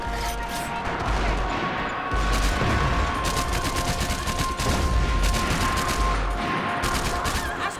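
M4 rifle fire in a Max Payne 3 multiplayer match rattles steadily and loudly, a nearly unbroken stream of rapid shots with other gunfire mixed in and no talking.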